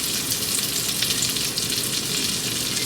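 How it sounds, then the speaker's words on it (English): Onion slices sizzling in butter in a pan, a steady close crackling hiss with dense fine pops throughout, loud and uninterrupted, with no voices. "Hear those things sizzling?"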